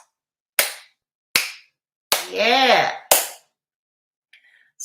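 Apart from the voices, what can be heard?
slow clap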